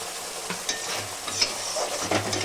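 Spice paste of ground black cumin sizzles and fries in oil in a pan while being stirred, a steady close crackle broken by soft scraping stirs.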